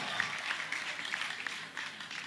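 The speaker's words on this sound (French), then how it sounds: "j'aimerais que vous fassiez un maximum d'applaudissements pour Joyce" An audience at a singing contest in Bukavu applauds the singer Joyce. The clapping is faint but continuous and comes as a short, dense patter throughout.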